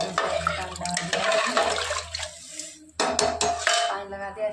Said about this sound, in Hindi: मैंने इसमें डाल दिया पानी